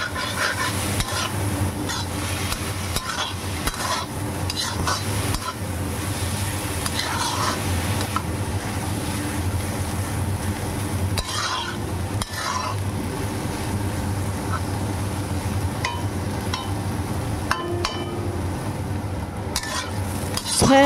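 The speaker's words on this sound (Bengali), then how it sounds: "এবার এর মধ্যে 1 টেবিল চামচ সয়া সস দিয়ে ভালোভাবে নেড়েচেড়ে মিশিয়ে দিচ্ছি।" Vegetables frying with soy sauce in a pan, being stirred constantly: a loud continuous sizzle under repeated spatula scrapes and occasional metal clinks, close-up with no voices.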